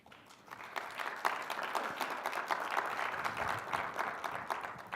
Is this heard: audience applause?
yes